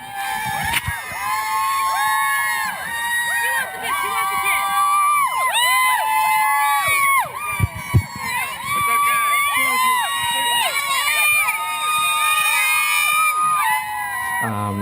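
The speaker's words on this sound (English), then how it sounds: "you begin to hear the crowd noise" Crowds of college students at Wellesley on the Boston Marathon route cheer and scream continuously in high-pitched, overlapping shrieks and whoops, loud and sustained, as if passing close by.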